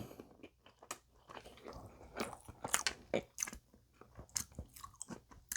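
Someone bites into a McDonald's pepperoni pizza burger on a soccer-ball-shaped bun and chews it up close, with irregular soft crunches and wet chewing sounds and brief pauses between bites.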